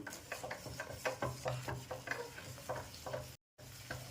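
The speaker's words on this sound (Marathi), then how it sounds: "गुळाचा पाक तो शिजून घेणार आहे याच्यामध्ये मीडियम गॅसवर शिजवते" Jaggery syrup for crisp sesame chikki bubbles and simmers in a pan over a medium gas flame while a spoon stirs it in repeated scraping strokes, steady and close, with a brief dropout near the end.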